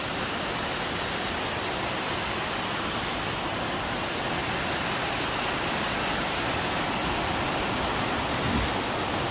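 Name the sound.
Long Creek Falls waterfall on the Appalachian Trail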